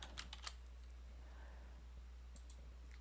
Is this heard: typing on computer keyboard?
yes